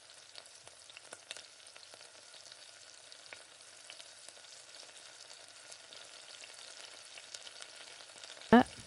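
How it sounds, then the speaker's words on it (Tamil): Onions and mustard seeds fry in a pan for a South Indian meal, giving a soft steady sizzle with faint crackles, ending in a brief louder burst of noise. "வெங்காயம் அதெல்லாம் நல்லா வதக்கி விடுங்க."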